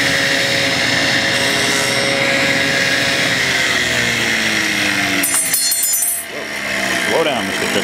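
Power saw running steadily and loud while cutting tenons in wood, a constant droning whine that holds throughout with a brief dip near the end.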